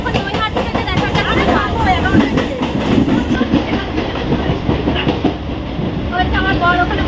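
A passenger train running from Naihati rolls along the rails with a continuous rumble and rhythmic clickety-clack heard from inside a carriage, and passengers talk over the noise.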